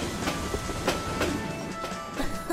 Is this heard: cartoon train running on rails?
yes